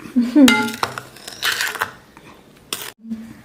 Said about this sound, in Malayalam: ഇനി നമുക്ക് ഈ സ്പാറ്റില കൊണ്ടൊന്നങ്ങ് ജോയിൻ ചെയ്യാം